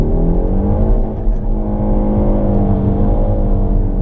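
A Peugeot 308 GTi 270 hp pulls hard from first gear on a wet road with 19-inch wheels, the engine note climbing loud and steady throughout.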